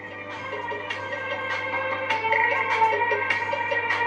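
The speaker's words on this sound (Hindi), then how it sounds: "ये हमने मोबाइल में MP3 प्ले किया है" Recorded MP3 music plays from a mobile phone through a Stranger SM6 audio mixer under repair for humming, a steady full mix with rhythmic accents, a constant low hum beneath it, and no talking.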